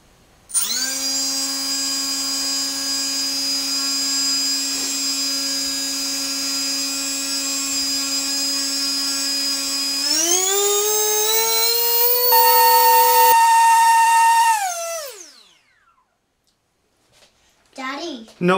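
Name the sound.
SunnySky 2207 2100kv brushless motor running at full throttle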